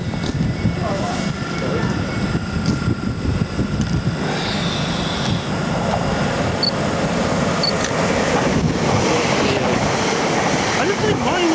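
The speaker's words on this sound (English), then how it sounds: "Train now approaching platform 3, not stop here." An Elizabeth Line Class 345 train running through Southall station without stopping, a loud sustained rumble and rush of wheels and air lasting the whole stretch, with faint station sounds mixed in.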